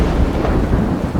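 Hail falls during a storm while driving, a dense, continuous roar of pelting impacts on a car, loud and close with no pauses.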